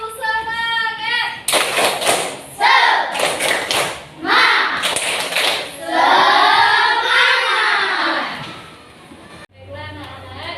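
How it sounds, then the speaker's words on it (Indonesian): Schoolchildren perform a rhythmic group spirit clap in a classroom, with bursts of patterned clapping and chanted voices alternating, loud and close, with a teacher's voice at the start. "Tepuk semangat."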